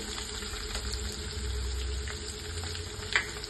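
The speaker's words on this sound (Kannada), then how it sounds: "ಕರಿಬೇವು ಹಾಕ್ಕೊತಾ ಇದ್ದೀನಿ" Curry leaves are added to onions frying in a pan for beetroot palya, giving a steady close sizzle with a brief sharper crackle near the end.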